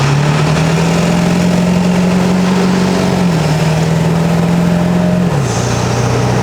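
A 7.3L Powerstroke diesel truck fitted with performance injectors runs loud and steady, its low engine drone holding near idle with slight dips in pitch, close up and alone with no voices.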